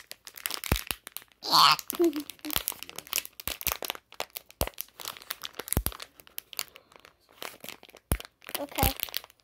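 Plastic packaging of a Squishy Mochi Mini Edition toy from 7-Eleven crinkles and crunches in irregular bursts as someone struggles to open it by hand, with a louder tearing crackle early on and brief speech in between.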